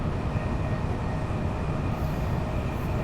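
A Great Western Express train simulated in Train Sim World running between Didcot Parkway and London Paddington, a dense, continuous rumble of wheels and traction with faint rail hiss, steady and close throughout, no talking.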